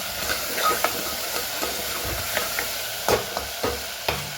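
Food is stirred and mixed in a hot pan with lemon juice added, giving soft sizzling and steamy hiss broken by scraping spoon strokes at an uneven rhythm, close up with no talking.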